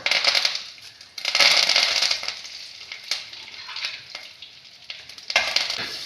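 Dried red chillies halved and curry leaves frying in hot oil, a loud steady crackling sizzle with sharper bursts of spitting throughout.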